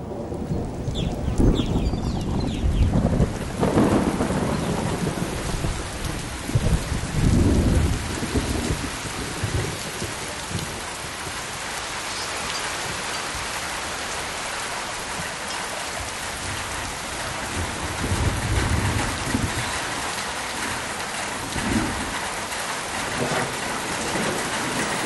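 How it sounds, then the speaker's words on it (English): A heavy rain shower in sweltering heat near 40 degrees, a dense, steady roar of falling water with deep rumbles of thunder rolling through it. No voices are heard. "At almost 40 degrees, the rain is a blessing for man and beast."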